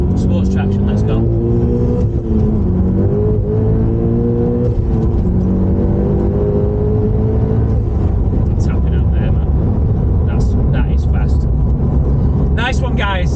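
A stage 3 big-turbo VW Golf GTI Mk7 with a Fastline FL530 turbo accelerates hard in sport traction mode. The loud, close engine note climbs in pitch through several gear changes, with turbo whistle and sharp shift bursts near the end.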